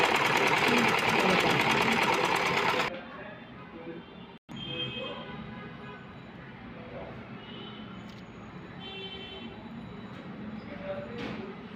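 A sewing machine stitches a blouse, running loud and steady for about three seconds, then stops, leaving quiet room sound with a brief cut and light handling noises.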